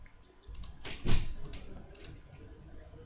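A single close mouse click on a computer's clear history button, with a few faint clicks around it in a quiet room.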